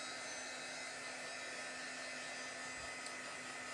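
A heat gun blows steadily and loudly while drying gesso on a mixed media art project, a constant whirring hiss with no breaks and no one talking.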